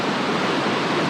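Flowing water from a stream or waterfall in Kings Canyon National Park, California, rushes as a steady, dense, close hiss with no pauses and no voices.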